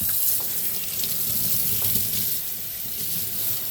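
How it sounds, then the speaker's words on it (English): Tap water running steadily while a dirty vacuum cleaner filter is washed in a sink, a constant splashing hiss, close and fairly loud with no talking. "Let's go wash the filter."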